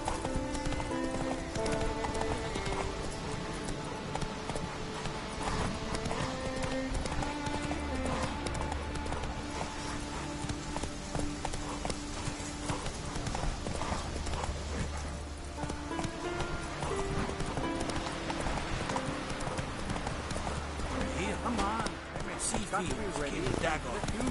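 A horse galloping in The Witcher 3, rapid rhythmic hoofbeats under a continuous bed of game music, with a brief whinny and someone speaking now and then.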